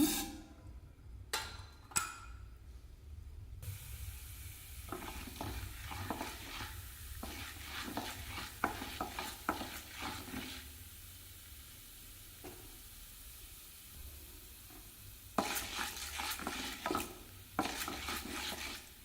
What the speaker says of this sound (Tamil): எண்ணெய் சூடாயிடுச்சுங்க உளுந்து சேர்த்துக்கலாங்க